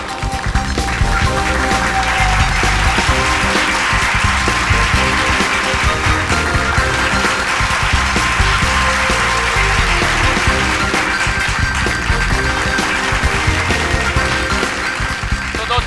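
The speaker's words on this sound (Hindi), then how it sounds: "जोरदार तालियां।" Loud applause from a stage audience for a magician's special act, sustained clapping across the whole stretch with music or tonal sounds layered underneath.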